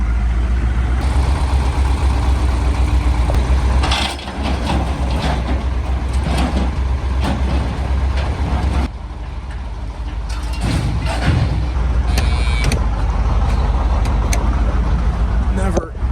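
Farm truck engine running steadily at idle, loud and close, a continuous low rumble that dips briefly around the middle before resuming, with people talking over it.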